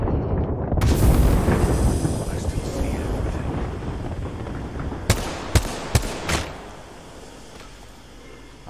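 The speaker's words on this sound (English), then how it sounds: "There's an airstrike inbound." Airstrike in Apex Legends, a loud sustained rumbling roar of explosions, then a few sharp distinct blasts near the end as the noise fades.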